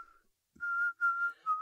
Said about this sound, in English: he demonstrates his newly mastered technique of inward whistling